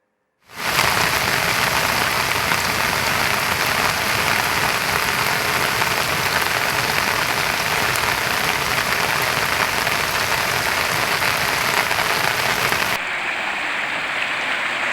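Heavy rain pours steadily as a dense, loud hiss for the whole stretch and eases slightly near the end, with no voices.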